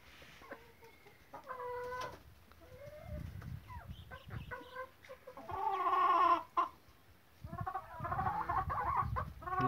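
Several hens cluck and squawk in a laying area, with one louder burst of calls in the middle and quieter clucks around it, close by.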